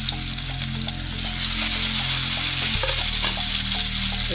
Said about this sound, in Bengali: তেল আমার গরম হয়ে গেছে, এবার আমি আলুটাকে ভেজে নেব।